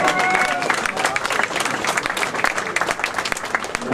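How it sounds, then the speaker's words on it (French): Close, dense applause from a crowd at an award ceremony in Yverdon fills the whole stretch at steady volume, with a few voices mixed into the clapping. "Des applaudissements, messieurs."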